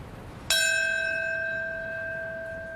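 A single church-style bell strikes once at a memorial ceremony marking the September 11 attacks on the World Trade Center, a clean bright tone that rings on and slowly fades over a quiet background.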